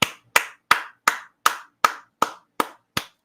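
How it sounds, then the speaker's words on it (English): Nine sharp hand claps at a steady, even pace, close and clear with silence between them. "I'm just clapping."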